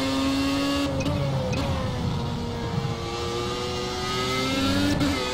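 Racing car engine in a video game holding a steady droning tone with slight pitch shifts, loud and continuous with a couple of brief shift blips, no voice heard.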